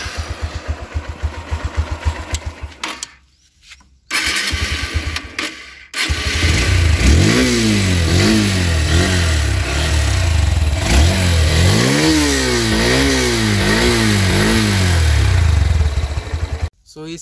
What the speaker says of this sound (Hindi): मैं आपको इस गाड़ी का एग्जॉस्ट नोट बताता हूँ कैसा है इस गाड़ी का साउंड।